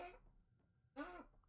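A pet cat coughing, two short raspy hacking bursts close by with a brief pause between, sounding somewhat like a seal.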